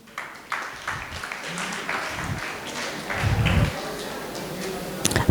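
A group of schoolchildren breaking into applause, a few scattered claps at first building to a fuller burst of clapping, with voices and talk mixed in.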